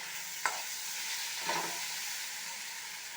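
Chayote fries in coconut oil for a Kerala-style chutney, a faint steady sizzle with two quick utensil taps against the pan and no voices.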